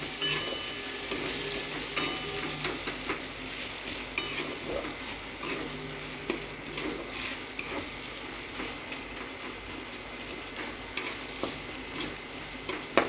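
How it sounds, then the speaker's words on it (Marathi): Spoon stirring red chili powder and turmeric through a potato dish in a pan, with soft repeated scrapes and light clinks, faint sizzling underneath, close and steady. "लाल तिखट थोडीशी हळद व्यवस्थित मिक्स करून घ्यायचं"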